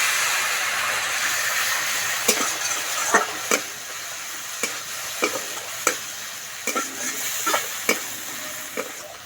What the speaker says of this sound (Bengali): একটু জল দিয়ে মশলা ভালো করে কষিয়ে নেবো